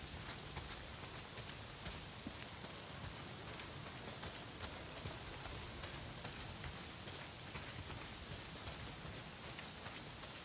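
Heavy rain pours steadily in the video game Days Gone, a dense continuous hiss of drops hitting surfaces, constant and enveloping without pause.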